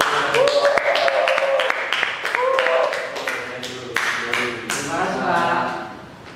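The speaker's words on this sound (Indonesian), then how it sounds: "Beri tepuk tangan dulu buat" A classroom of students claps in a brief burst of scattered, uneven applause that fades out, mixed with a few louder nearby hand claps and taps.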